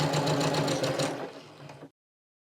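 A sewing machine stitches a quarter-inch seam across fabric for a scrunchie lanyard, whirring rapidly and close for about two seconds before stopping abruptly, with no talking.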